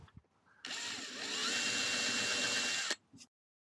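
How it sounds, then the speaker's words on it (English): A power drill with a small 2 mm bit bores a hole into a ski while mounting Atomic Shift MNC 13 bindings, one steady whine of about two seconds, close and alone. "I start with a small 2 millimeter drill bit"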